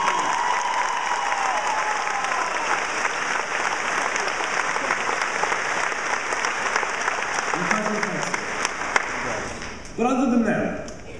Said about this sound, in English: Can we have a round of applause for those who are joining our military?